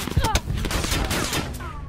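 Rapid bursts of gunfire from an opponent's weapon in a shooter video game, loud and close, overlapping shots with ringing echoes, a voice briefly mixed in.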